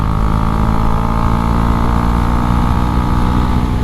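A Husqvarna Svartpilen 401 motorcycle under way, its engine a loud, sustained buzzing drone mixed with wind rush, holding steady and close throughout with no talking.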